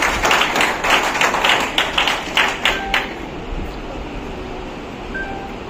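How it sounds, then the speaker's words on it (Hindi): An audience at a nursing college talk welcomes a doctor with brisk clapping that pulses for about three seconds, then drops away into quiet room tone. "तो बच्चे जोरदार तालियों के साथ वेलकम कीजिए"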